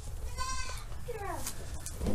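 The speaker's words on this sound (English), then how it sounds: "got all the big goats in here." Several large goats penned together bleat a few times, the cries fairly close but modest in loudness, over low rustling background noise.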